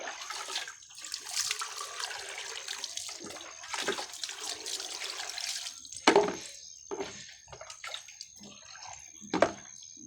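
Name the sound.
water being poured into a container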